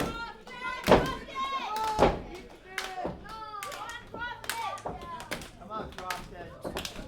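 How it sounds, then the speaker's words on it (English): A wrestling crowd in Campbell River claps in rhythmic bursts during an independent wrestling show, mixed with children's voices, cheers and people talking throughout. "Crowd here in Campbell River trying to bring a little life back to Krofton"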